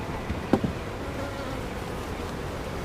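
Honeybees at a hive with honey supers, still bringing in nectar after the harvest, giving a continuous dense buzzing hum nearby with one brief close knock.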